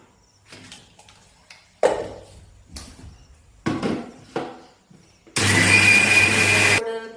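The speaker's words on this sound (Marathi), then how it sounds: "मी एका मिक्सरच्या भांड्यामध्ये हे पहिल्यांदा तांदूळ वाटणार आहे" A mixer grinder jar grinding soaked rice with a little water for idli batter, starting with short pulses and bursts, then running steadily and loudly for about a second and a half near the end.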